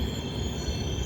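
A train runs on rails with a loud, steady rumble and sustained high squealing tones from the wheels, continuous and close, with no voices.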